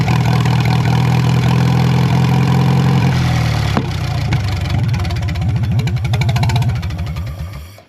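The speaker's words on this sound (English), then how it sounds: "I'm gonna let the engine run for a little," Engine of a Farmall M tractor running loud and close, a steady idle that shifts partway through into a clearly pulsing, chugging beat before fading slightly at the end, with no talk.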